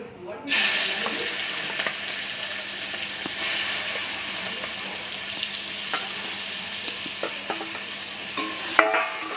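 Shrimp coated in salt and turmeric hit hot oil and fry in a steady, loud sizzle that fills the whole clip, with a few faint clinks and stirring scrapes near the end.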